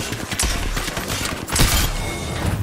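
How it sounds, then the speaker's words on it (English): Rapid gunfire from the Apex Legends video game during a Duos match, a dense burst of loud overlapping shots and thuds filling the whole stretch. "he didn't miss a shot on me"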